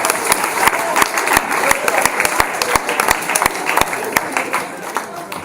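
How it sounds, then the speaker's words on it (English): A presentation-night crowd clapping for a women's sports club, a dense, lively burst of applause with distinct sharp claps throughout, fairly loud and sustained. "they deserve a bloody clap as well because that's fantastic"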